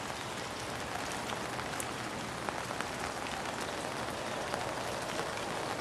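Steady rain falls in a dense, even hiss with scattered drops ticking on surfaces, continuous and fairly faint throughout.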